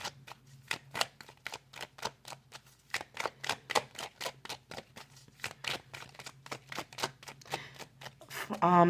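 Oracle cards shuffled in a quick, steady series of crisp riffling snaps, close and fairly loud, with no talking over them.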